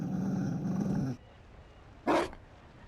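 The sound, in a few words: Mabari dog growling, from video game Dragon Age Inquisition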